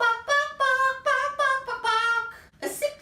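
A voice imitates a happy chicken with a string of bright, melodic clucking notes in a quick rhythm, alone and close.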